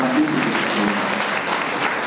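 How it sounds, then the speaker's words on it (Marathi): A crowd at a birthday tribute for a political leader applauds loudly and steadily, dense clapping filling the room with a faint voice underneath. "तर जोरदार टाळ्या वाजवून आपण त्यातील सर्वांनी"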